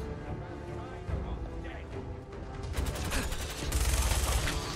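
Minigun fire in Fallout 4 roars as a dense, continuous burst that builds louder in the final seconds, mixed with clattering game action.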